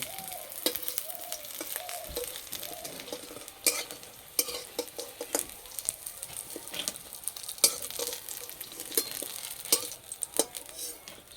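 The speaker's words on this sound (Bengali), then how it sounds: "আর এই যে বড়াগুলো ভাজা হচ্ছে" Neem leaf fritters deep frying in hot oil give a steady crackling sizzle, with occasional sharp clinks of a utensil against the pan breaking through at intervals.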